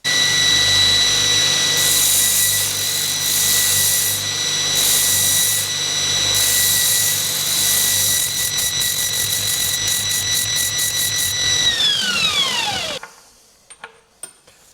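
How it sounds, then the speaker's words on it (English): A grinder grinds down a cut-off steel rivet for hot-riveting a steam engine gear ring, giving a loud, close, steady high whine for about twelve seconds before spinning down and falling quiet, followed by a few faint knocks. "let's chop this off, go to the grinder, grind it down a bit"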